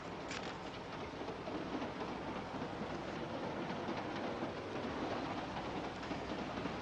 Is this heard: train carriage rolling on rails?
yes